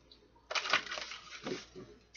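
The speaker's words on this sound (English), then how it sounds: "One more shuffle." Tarot cards being shuffled in a riffle of quick, papery flutters and brushing rustles, moderately close, lasting about a second and a half after a short quiet start.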